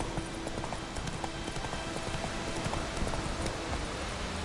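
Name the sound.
horse galloping in video game The Witcher 3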